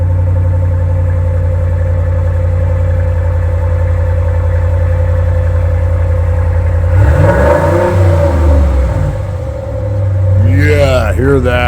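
A 2016 Ram 1500 with a Hemi V8 and its muffler deleted idles with a deep, steady rumble, then revs loudly in two rising bursts near the end. The sound is close and heavy.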